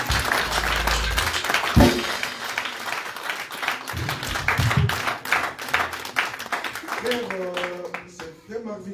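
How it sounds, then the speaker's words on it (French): A church congregation applauds with dense, sustained clapping, loud and close, while a voice speaks over the noise near the end. "Est-ce qu'on peut acclamer encore pour lui?"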